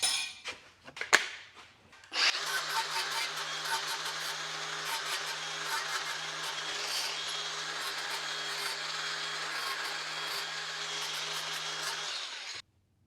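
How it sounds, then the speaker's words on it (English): A handheld power grinder works down a freshly cut metal piece being prepared for welding, a steady, loud whirring grind that runs continuously for about ten seconds after a few brief knocks, then stops abruptly. "now let's grind this up a little bit."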